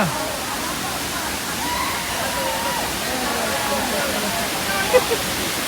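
Apsarakonda waterfall at Honnavar pours in a loud, continuous wash of rushing water, close and steady throughout, with a couple of faint brief sounds near the end.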